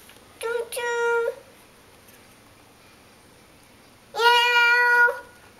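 Two meows, a short double one then a longer one after a pause, steady and bright in tone, like a recorded or toy cat.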